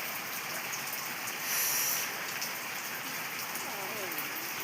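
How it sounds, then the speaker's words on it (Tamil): Steady rain pouring down in Thoothukudi district, a dense, even hiss of drops on surfaces that holds close and constant throughout, with a brief louder swell partway through and no voices. "இப்போ சினிக்கிட்டு இருக்கு மழை."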